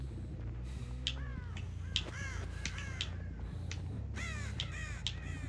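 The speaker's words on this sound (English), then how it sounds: "Crows." Crows caw in a video game near a pile of bodies, several harsh calls repeating in quick bursts over a low ambient drone, fairly close and clear.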